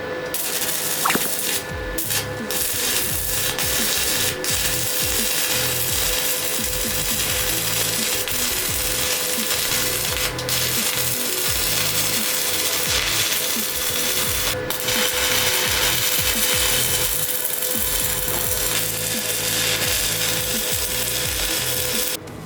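A beginner runs a 100V stick arc welder, laying a bead along the inside corner of a joint: a steady, loud crackling sizzle with scattered pops, continuing with no talk.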